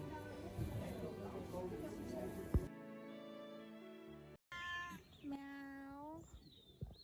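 A cat meows near a cat café on a Shanghai street, a short rising and falling call heard close after a stretch of chatter and street noise, with people talking around it.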